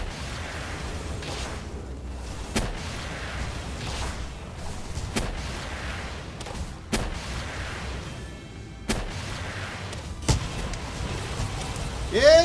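Gunfire booms in the video game Palworld, a series of heavy, widely spaced shots and blasts every couple of seconds over a low rumbling background.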